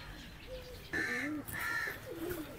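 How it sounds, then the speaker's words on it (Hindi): Wild pigeons kept in an open mini zoo enclosure at a national park in South Punjab, giving a few soft cooing calls and short bird calls close by, with no talk. "ये जंगली कबूतर हैं जी,"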